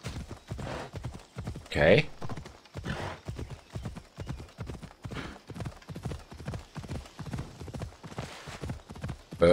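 Horse hooves clip-clopping steadily in Assassin's Creed Odyssey, a regular galloping rhythm of firm hoof strikes throughout, with a short snort and someone speaking briefly over it.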